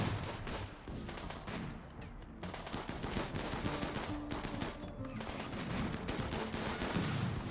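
RimWorld Biotech game gunfire rattles in dense overlapping bursts of rapid shots throughout, like a fusillade, steady and mid-level with no talk over it.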